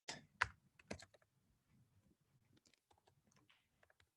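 Computer keyboard keys are typed in a quiet room, a couple of louder clacks at the start followed by a soft, irregular patter of lighter keystrokes.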